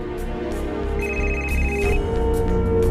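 A phone ringtone plays a repeating electronic melody, loud and close, with no voices.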